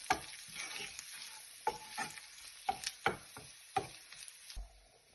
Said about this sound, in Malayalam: അതൊന്ന് മൂത്ത് വരാൻ വേണ്ടി നമുക്ക് നല്ലോണം ഇളക്കി കൊടുക്കാം